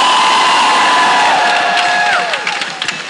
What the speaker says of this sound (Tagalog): Malakas na sigaw